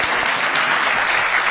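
Audience applause in a hall, dense and steady clapping from a large crowd, close and loud throughout.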